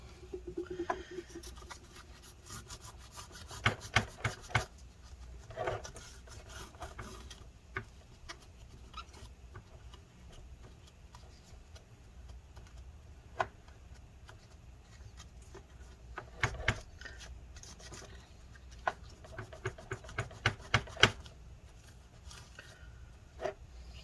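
A toothbrush scrubbing a corroded solder joint on a KO Racing circuit board with rubbing alcohol, giving faint, close, irregular scratchy bristle strokes and light taps in bursts, with no talking.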